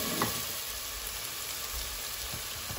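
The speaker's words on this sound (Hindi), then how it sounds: "हमारे लहसुन अदरक अच्छी से देखें मैंने ऐसे भून लिया है प्याज के साथ" Ginger and garlic frying with onions in a pan for an aloo keema, giving a steady close hiss and crackle with no talk.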